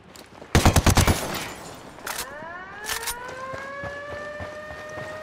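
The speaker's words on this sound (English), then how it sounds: "Taking fire from the checkpoint." Gunfire from an enemy checkpoint in the Ghost Recon Wildlands shooter game, a loud rapid burst of automatic shots followed by a couple of sparser cracks and a rising siren-like wail, with no talking.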